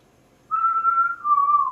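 A single person whistles a sustained, slightly wavering tune, clear and close, in two drawn-out phrases with a brief dip between them.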